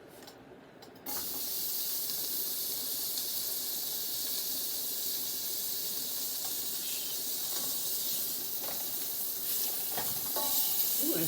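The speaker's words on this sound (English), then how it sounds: "I think I want to add my sausage" Sausage dropped into a hot seafood gumbo pot sets off a loud, steady sizzle and hiss that holds for several seconds, with faint stirring scrapes near the end and no talking.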